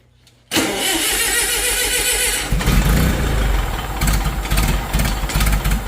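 An old rusty Wisconsin V4 industrial engine cranks and catches suddenly, then runs loud and close, settling into a rough, uneven idle with rhythmic chugging and occasional surges.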